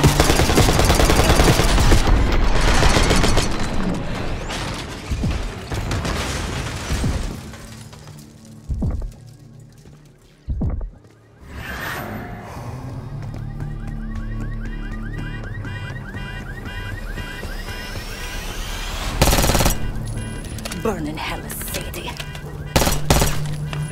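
Heavy gunfire in Call of Duty, with dense sustained bursts of automatic fire, scattered single shots, loud impacts and shattering, interrupted by brief lulls before more shots ring out near the end.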